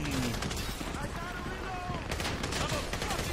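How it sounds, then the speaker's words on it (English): Gunfire in Grand Theft Auto V gameplay: a dense, continuous barrage of rapid shots and bursts under game ambience, with someone talking over the shooting. "You hear that gunfire?"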